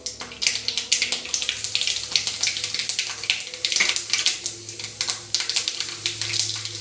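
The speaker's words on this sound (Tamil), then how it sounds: "கடுகு நல்லா பொரிஞ்சிருச்சு" Mustard seeds crackling and popping in hot oil for an egg gravy, a dense irregular patter of sharp pops and sizzles continuing throughout at close range.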